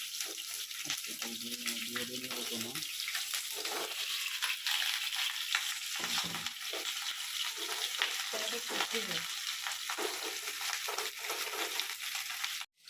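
Cauliflower and potato frying in a pan, a soft continuous hiss with occasional stirring scrapes, faint and close, with a watery running-tap quality mixed in before it cuts off abruptly at the end.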